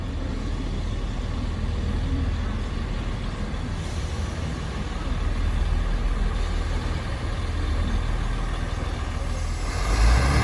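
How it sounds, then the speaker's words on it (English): A two-car Class 158 Transport for Wales diesel unit, number 158829, pulls out of Hereford station on the Cardiff Central to Holyhead service, its engine giving a steady, dense rumble that builds slightly toward the end, with no talk. "Departing out now is the 1029 Transport for Wales service from Holyhead from Cardiff Central to Holyhead."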